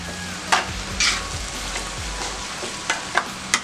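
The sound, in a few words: spinach sautéing in oil with tomato and onion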